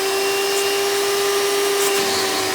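A Hoover Soft & Light Supreme U4264-930 upright vacuum with a wraparound hose runs steadily, a constant motor whine with a strong steady hum, heard alone at close range.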